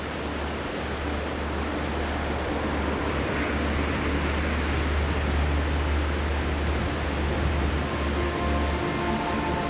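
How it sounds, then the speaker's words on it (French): Constant loud rushing water at the Courmes waterfall, a dense unbroken roar, steady from start to finish with no talking. "la cascade est là, elle devrait couler à merveille"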